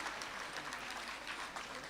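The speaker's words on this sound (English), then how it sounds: "They all get a round of applause" Applause for the staff at a Neve 50th reunion event, a short burst of dense clapping from a crowd heard at moderate distance, steady throughout with no voices over it.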